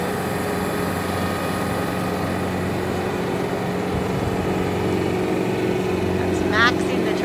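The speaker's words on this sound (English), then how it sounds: "That's maxing the tractor right out." A tractor engine runs flat out at full power, a steady loud drone with a constant hum that holds throughout, close by and unbroken.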